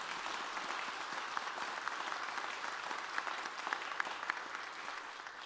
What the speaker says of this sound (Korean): 우리 모두 서로를 격려하는 마음으로 한번 뜨거운 박수 하겠습니다